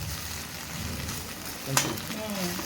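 Egg fried rice ingredients frying in a pan give off a steady broadband sizzle, with a brief sharp clink or stir midway and faint tonal sounds near the end.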